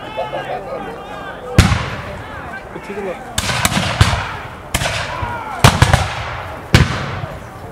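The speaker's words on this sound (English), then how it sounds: "if you think those musket shots are loud from back here, imagine what it is like going to be right next to you" Sharp, loud musket shots crack out in a historical battle reenactment, scattered single reports and near-simultaneous pairs echoing over crowd murmur and an announcer talking.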